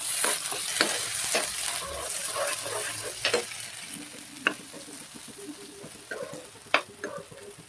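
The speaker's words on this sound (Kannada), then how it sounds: "ಸ್ಲಿಮ್ಮಲ್ಲಿ ಇಟ್ಕೊಂಡು ಚೆನ್ನಾಗಿ ಫ್ರೈ ಮಾಡ್ಕೊಬೇಕು." Radish chutney fries over a low flame while a spoon stirs it in the pan, a steady sizzle punctuated by sharp scraping clicks at irregular intervals.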